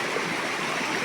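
Steady rushing roar of a 70-foot waterfall, a broad continuous wash of falling water heard close and loud throughout with no voices.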